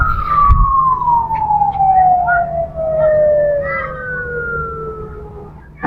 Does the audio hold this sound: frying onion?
no